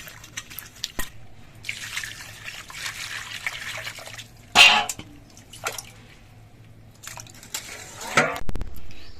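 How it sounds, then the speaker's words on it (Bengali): Salted whole sarputi fish (a barb) rinsed with water in a kitchen sink: intermittent splashing, dripping and trickling in short bursts, close by, with a louder splash near the end and no talking. "এবার নুন মাখিয়ে নিয়ে মাছটা আমি ধুয়ে নেব"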